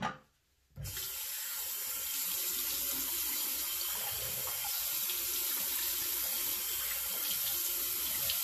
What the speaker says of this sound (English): I'll give it the quick rinse.